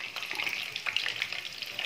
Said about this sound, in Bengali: মা দেখো আলুগুলোকে নুন আর হলুদ মাখিয়ে ভাজছে